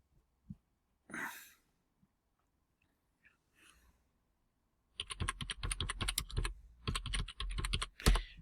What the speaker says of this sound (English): I just type Secret Escapes